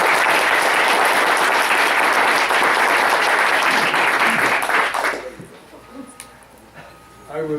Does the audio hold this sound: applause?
yes